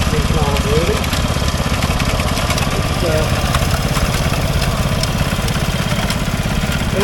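A diesel engine on a tracked compacting vehicle with a front bucket and rear roller runs at a steam rally, giving a loud, close, steady chugging idle throughout, with a voice talking faintly beneath it.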